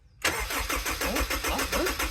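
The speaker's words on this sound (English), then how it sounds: "I've got to crank it till the oil light goes out" Honda S2000 engine being cranked over on the starter with its fuse pulled, so it turns without firing: a sudden start after a moment of quiet, then a fast, steady, rhythmic churning that continues unbroken to the end, close up and loud.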